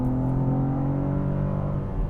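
A BMW G87 M2 with a six-speed manual and a RaceChip GTS Black tune accelerates hard in third gear in sport mode, its engine a loud, steady, deep droning roar heard from inside the car.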